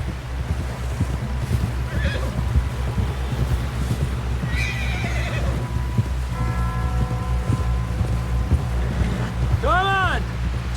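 A horse in the Red Dead Redemption 2 game neighs and whinnies loudly near the end, over steady hoof clip-clop, wind and a low continuous rumble, with a few fainter whinnies earlier.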